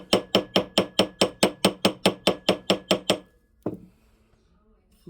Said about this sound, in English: When you're tapping with the hammer, you're just tapping.